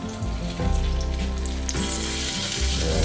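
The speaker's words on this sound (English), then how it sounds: "It is going to be a little smoky, but that's what happens with a high temp sear." Meat sears at high heat with a loud, dense sizzle that swells and eases over a low, steady hum.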